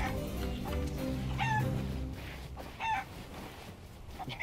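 A chicken in the pirate game Sea of Thieves clucks in two short bursts, the calls rising above a murky background hum at moderate volume.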